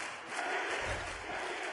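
A virtual arena crowd in the UFC 6 video game roars and chants in a steady, blended wash of noise, moderately loud and continuous throughout.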